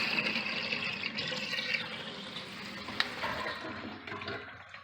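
Water drains from a kitchen sink through a newly installed strainer once the plug is opened, a steady rushing gurgle that gradually thins and fades toward the end, with no one talking.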